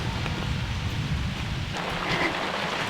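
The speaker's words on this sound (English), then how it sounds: "It started raining" Rain falls steadily outdoors near a garden high tunnel as a dense, even hiss of drops, fairly loud and continuous, with no talking.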